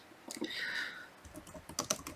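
Keys clatter on a laptop keyboard in short bursts of quick taps, close and fairly quiet, with a brief pause in the middle and no one speaking.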